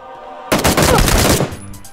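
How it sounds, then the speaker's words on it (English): SKS rifle fire in PUBG: a loud burst of rapid gunshots begins abruptly and runs for about a second, the reports close together and near, then fades to a quieter tail. "Headshot with the SKS, man."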